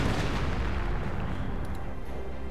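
Deep, rumbling booms of heavy artillery, 88 guns and anti-tank cannon fire in the video game Company of Heroes: Opposing Fronts roll together in a continuous barrage, fairly quiet and distant-sounding.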